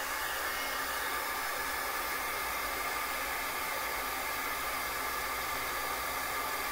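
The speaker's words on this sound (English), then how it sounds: "we're going to go ahead and hit this with our heat tool" Embossing heat tool blowing hot air across paper during card making, a steady, unbroken hiss like a hair dryer that holds constant for several seconds with no talking.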